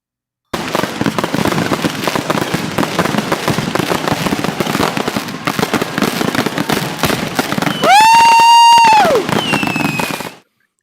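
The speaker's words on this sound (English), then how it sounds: "Fireworks." A fireworks sound effect with dense, rapid crackling bursts and pops filling about ten seconds, plus a rising whistle of a rocket in the latter part, loud and continuous with no talking.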